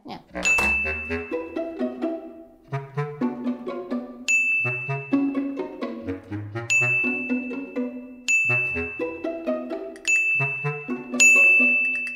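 A phone's bright electronic notification chime rings out in a repeating melodic pattern, each phrase ending on a sustained high ding, playing clearly on its own.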